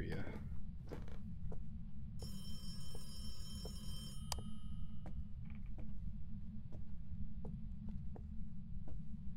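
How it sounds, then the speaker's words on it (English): Phone ringing inside the ghost-hunting horror game Phasmophobia: a burst of bright, sustained ringing tones over steady low rumble, followed by scattered creaks and clicks, with occasional speech nearby. "I hear the telephone ringing"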